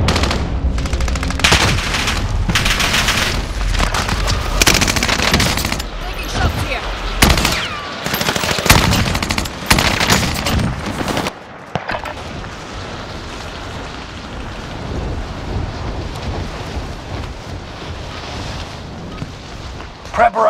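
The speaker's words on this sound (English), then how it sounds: "Taking shots here." Gunfire rips through a Call of Duty: Modern Warfare battle, with loud rapid automatic bursts and heavy blasts for about eleven seconds, then quieter rumbling combat ambience with voices underneath.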